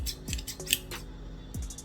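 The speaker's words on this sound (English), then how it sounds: "the hero of the tailoring kit is the scissors," Fabric scissors from a beginner's tailoring kit are handled up close, giving a few sharp metallic snips and clicks at an uneven pace.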